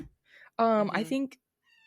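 A cat meows in a short, loud, drawn-out call with a brief second note, close to the microphone, with faint background voices before and after.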